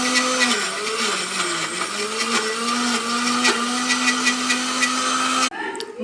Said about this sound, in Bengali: তাই জন্য মিক্সির মতো ডাল নিয়ে নিয়েছি। এখন বাটবো